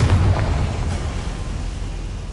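A Confringo fire blast spell explodes in Hogwarts Legacy, a loud, dense burst with heavy low rumble that decays slowly into a sustained roar over a couple of seconds, no voices present.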